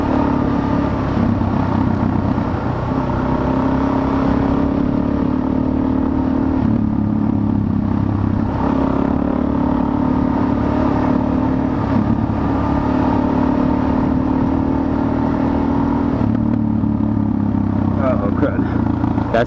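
A Suzuki DRZ400 motorcycle rides through sand in a forest, its engine droning steadily and close with shifting revs for the whole stretch, while voices talk over it.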